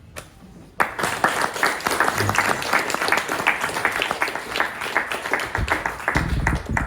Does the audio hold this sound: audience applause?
yes